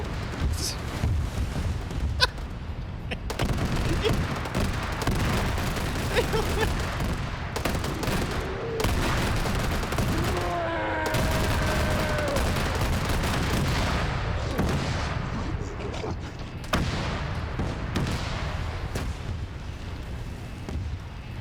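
Giant mechs in a zombie-campaign war video game dump their magazines in sustained gunfire, a dense continuous barrage with booming impacts throughout, while a voice talks faintly underneath.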